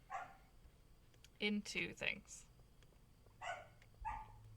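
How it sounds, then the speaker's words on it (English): A farm dog barks in the background, a few short bursts spaced across the moment, mixed in with people talking. "And the dog's barking again."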